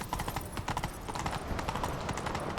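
Horse hooves gallop in rapid clip-clop rhythm in The Witcher 3, close and steady throughout with a faint background score.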